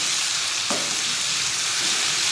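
Garlic and ginger paste fries for mutton biryani, giving a steady, close, loud sizzle with a brief stirring scrape.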